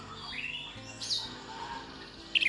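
Several short, high whistles and chirps of an orange-headed thrush over a muffled background of low rumble, with a brighter, louder burst of calls near the end.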